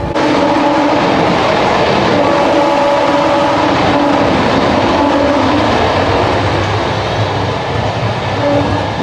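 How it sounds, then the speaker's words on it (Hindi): The Jan Shatabdi Express runs at speed, heard from inside a Vistadome glass coach: a loud, continuous rumble and rattle of wheels on track with faint clatter, steady for the whole stretch and no talking. "अभी हमारी ट्रेन स्किप कर रही है आनंद जंक्शन"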